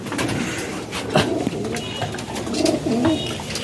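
Pigeons coo softly and repeatedly at close range, low throaty calls over a busy background hum.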